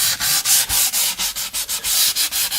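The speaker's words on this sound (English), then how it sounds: "Sand our route real good so that our route is nice and even all the way around." Sandpaper worked by hand along a wooden edge, loud close rhythmic strokes back and forth at a steady quick pace, no talking.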